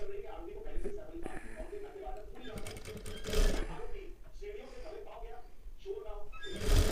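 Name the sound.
sewing machine stitching the katori of a blouse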